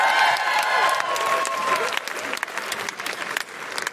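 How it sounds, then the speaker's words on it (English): Audience applause for Donna at a live comedy podcast recording, a dense, loud wash of clapping from a crowd that holds steady and then thins slightly toward the end, with some voices mixed in. "Big round of applause for Donna"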